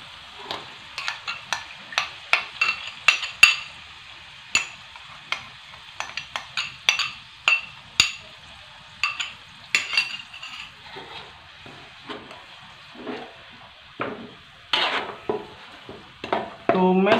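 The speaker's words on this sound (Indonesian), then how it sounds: "Tumis sampai aromanya naik" Blended dried chilies sautéed in a pan, with a faint sizzle and repeated light scraping and clinking of a spatula against the pan in irregular strokes, close and fairly quiet.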